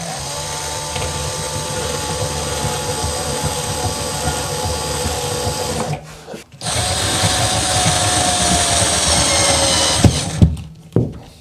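A power drill runs loudly and continuously while mounting a smart toilet remote holder onto a cabinet, with a brief stop midway before whirring again and sputtering out near the end.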